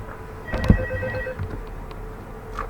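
A telephone rings in the video game Five Nights at Freddy's 2, one electronic ring burst followed by quiet, faint and alone.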